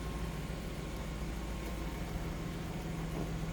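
A 1997 Nissan Skyline R33 GTS with a 2.5-litre inline six idles steadily, a low continuous engine hum with faint broadband noise and no voices.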